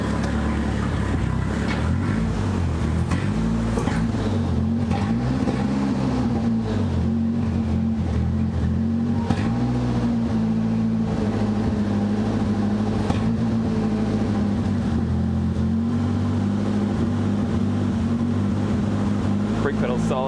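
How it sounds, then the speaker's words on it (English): A Nissan 200SX engine idles steadily and loud for about twenty seconds, running roughly with an irregular misfire and a missing number one cylinder, the dense low rumble continuous and close. "Definitely hear it misfiring every now and again."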